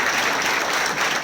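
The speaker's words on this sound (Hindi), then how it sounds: "एक बार उनके लिए जोरदार तालियां।" Dense applause from a crowd at a corporate gathering, a steady wash of many hands clapping at once, loud and sustained throughout.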